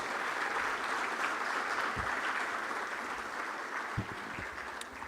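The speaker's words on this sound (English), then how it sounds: "let's clap again for the minister" A conference audience at an energy event claps for the minister in sustained, moderately distant applause with a few louder thumps along the way.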